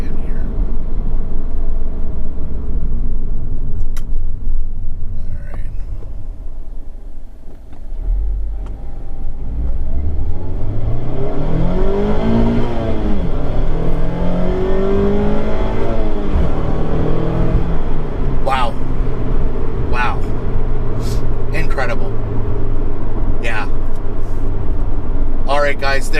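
A Mazda MX-5 ND running a VersaTuner N1 tune pulls hard, its engine note climbing steadily through the gears as a loud, close cabin drone while someone talks over it.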